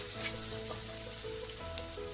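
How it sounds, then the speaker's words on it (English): Small and big onions sauteing with a pinch of salt in a pan for mutton chukka, a steady close sizzle and crackle of frying running evenly throughout with no talk. "So after adding this small and the big onion, saute it well."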